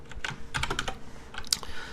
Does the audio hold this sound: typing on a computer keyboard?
yes